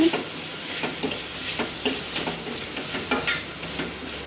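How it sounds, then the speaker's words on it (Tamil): Tomatoes being sautéed in a pan with tamarind and salt for chutney, with a steady close sizzle and repeated scraping stirs of a spoon against the pan. "புளி கொஞ்சம் அளவான உப்பு சேர்த்து நல்லா வதக்கி விட்டுக்கலாம்"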